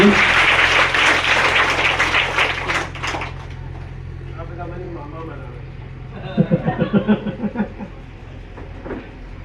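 An audience applauds at a community event for a school donor, broad crowd clapping loud at first and thinning out after about four seconds, followed by a voice and a few scattered claps.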